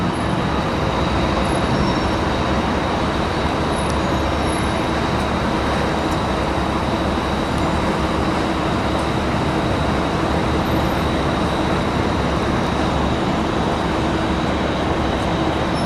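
Constant roar of traffic on the FDR Drive highway in New York City, heard from near the waterfront as a dense, steady wash of passing vehicles with no pauses and no talking.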